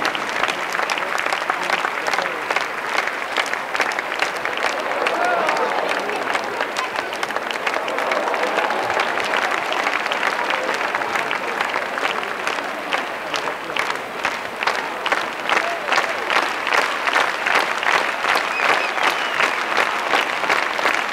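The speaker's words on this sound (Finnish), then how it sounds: "Nyt sitten kannustusta, kannustusta." A stadium crowd at a horse team show applauds steadily for the whole stretch, a dense, continuous wash of clapping and cheering with faint voices mixed in.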